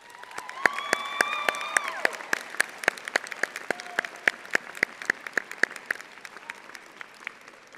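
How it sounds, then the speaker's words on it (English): Graduates at a law school commencement ceremony applauding family and friends, crisp rhythmic claps from nearby hands over a broad crowd wash, with a brief whistle or cheer early on. "Can the graduates please join me in a round of applause for your friends, family, and loved ones?"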